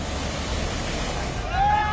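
Floodwater rushes down a swollen river after heavy rain near Vadodara, Gujarat, a steady broad roar of fast-flowing water, fairly close and continuous.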